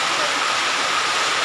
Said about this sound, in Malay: Suasana hujan di sore hari di kota Banda Aceh